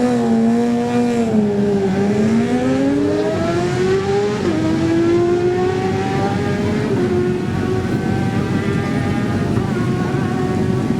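A Suzuki racing motorcycle at the Manx Grand Prix, with a loud, close engine whose pitch dips and then climbs as it passes and accelerates away, alone and sustained.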